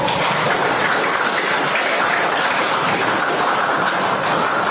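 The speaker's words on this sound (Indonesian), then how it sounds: "Tepuk tangan untuk kelompok 3" A classroom audience applauds group 3 during a persuasive speech practice session, a dense, steady wash of clapping that stays loud and even for the whole stretch, with no voices standing out.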